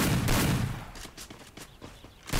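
Gunshots in a shooter video game, opening with a loud heavy burst, then a rapid string of sharper, quieter shots and a final loud report, fairly close with no talk over them.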